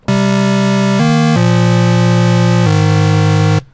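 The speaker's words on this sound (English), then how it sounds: "it's a power chord because listen to it." A loud, sustained synthesizer power chord with a buzzy, harmonically rich tone, shifting through a few held chord changes before cutting off.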